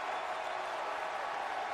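Stadium crowd at a Chicago Bears home game against the Arizona Cardinals, applauding and cheering as a steady, dense roar that holds evenly throughout, with no talk over it.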